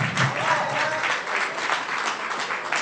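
An audience at a tech happy hour campaign finale party gives a round of applause, with dense, steady clapping and some cheering throughout, fairly close and loud.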